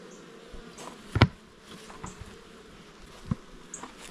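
Soft, steady buzzing of honeybees in a hive box hums in the background, broken by a few faint knocks and taps close by.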